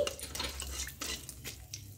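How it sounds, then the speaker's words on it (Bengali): Whole spices (small cardamom, cinnamon stick, cloves) fry softly in a pan with light scraping stirs and faint clinks, quiet and brief with no talking, for a village-style patal paneer dish. "একটু ভাজা ভাজা করে নিচ্ছি"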